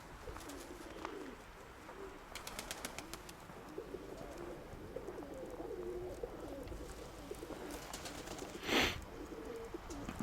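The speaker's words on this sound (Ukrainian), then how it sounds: "Я хочу голубів тут зманити" Pigeons cooing softly in the cold outdoors, low repeated coos over a faint background, with a brief louder burst near the end.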